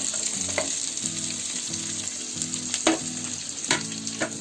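Onion, garlic and ginger fry in a pan with a strong, continuous sizzle, broken now and then by sharp stirring clicks from a spatula. A low rhythmic hum runs beneath, and no one talks.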